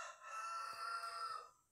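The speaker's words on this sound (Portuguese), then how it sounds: "Ô, galo, para de cantar!" A rooster crows once, loud and close, in a single sustained call lasting about a second and a half before fading out, with no other sounds around it.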